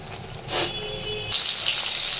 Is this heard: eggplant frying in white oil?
yes